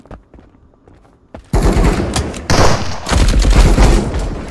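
Gunfire in the video game Marauders: a few soft thuds, then sudden loud rapid automatic bursts that keep rattling with brief pauses, close and dominant.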